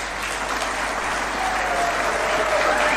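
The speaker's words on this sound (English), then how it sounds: "Let's clap for that." Applause from a crowd at a Taxpayers' Day ceremony at State House Nairobi, a steady dense clapping that swells slightly toward the end and never stops over the three seconds.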